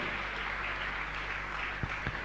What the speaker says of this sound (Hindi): आप तालियां बहुत अनुमोदना जोरदार जोरदार लगातार जारी रहना चाहिए